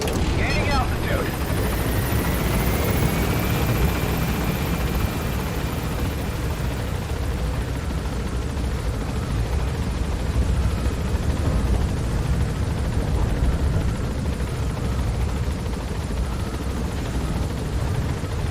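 A helicopter in Metal Gear Solid V gains altitude, its steady loud rotor and engine roar filling the whole stretch without a break, with a rising whine near the start.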